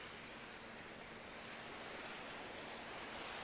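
Ocean surf at high tide pushing back into a swollen river mouth after heavy rain, a faint, continuous wash of breaking waves mixed with wind noise, swelling slightly toward the end.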